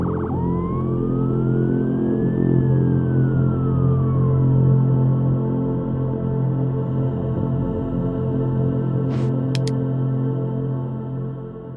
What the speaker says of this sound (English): the sight of an ambulance battling to respond to a call as quickly as is safely possible